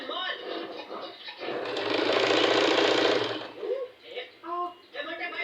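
A sewing machine runs steadily for about two seconds while stitching a fitted garment seam, with the joints held level, and someone talks before and after it.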